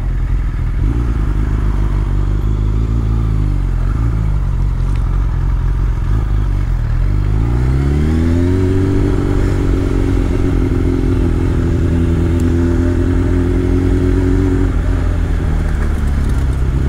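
A motorcycle rides through traffic jams on the Route Napoléon in France, its engine droning loud and continuous with wind buffeting, the pitch rising midway as it accelerates, then holding steady.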